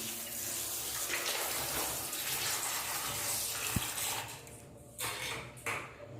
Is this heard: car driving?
no